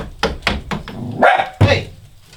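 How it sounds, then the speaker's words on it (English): A dog barks indoors in a quick run of five or six loud, close barks, the last two longer and deeper. "What are you barking at?"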